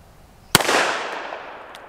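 A single sharp, loud shot from a Taurus 66 seven-shot .357 Magnum revolver fired at bowling pins outdoors, followed by a long fading echo and a faint distant tap.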